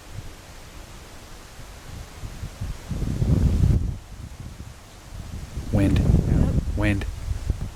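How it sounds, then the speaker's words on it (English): Wind rushes through a forest at night in soft, noisy gusts that swell and fade, with people speaking briefly over it near the end. "Wind."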